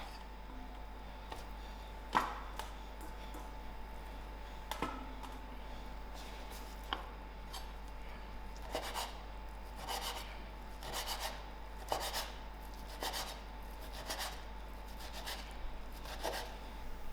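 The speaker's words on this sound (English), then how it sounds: "My spinach has cooled down, so I'm going to give it a quick chop." A knife chopping cooled cooked spinach on a cutting board, soft scattered taps that turn into a quicker run of rhythmic chops toward the end, faint and close over a low steady hum.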